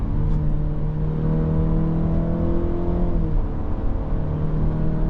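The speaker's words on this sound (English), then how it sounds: "Now we can downshift." Engine of a 2025 Cadillac XT4 AWD subcompact SUV rising in revs on a downshift, a steady loud cabin hum that climbs in pitch and then settles, heard from inside the car.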